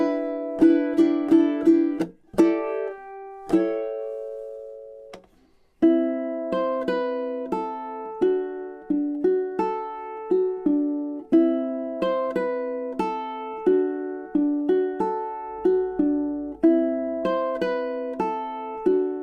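A solo ukulele plays a melody, starting with three-finger picking and shifting into strumming. Clear plucked notes ring out with a brief pause partway through, close and fairly quiet, with no voices.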